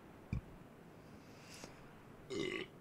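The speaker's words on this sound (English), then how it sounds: "Oh, pardon me. Bit of a burp there." A single short, close burp from a man playing Gears of War 3 online, followed a couple of seconds later by a brief voiced sound.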